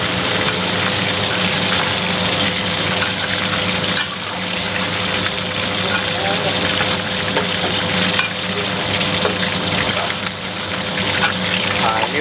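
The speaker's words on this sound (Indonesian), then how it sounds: "kita masak sampai kira-kira ayamnya matang berwarna kecoklatan" Chicken pieces fry in a pan until browned for restaurant-style sweet and sour chicken, a dense, loud, continuous sizzle with occasional stirring clicks, voices talking faintly underneath.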